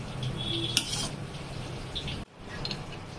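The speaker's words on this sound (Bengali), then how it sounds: "দিয়ে আরেকবার ভালো করে এটাকে নাড়াচাড়া করব, মশলাটা যাতে ভালো করে মিশে যায়।" Spiced Maggi noodles being stirred in a pan, with soft scraping and clinking of a utensil against the metal over a faint sizzle, including one sharp clack near the start and a brief pause before the stirring resumes.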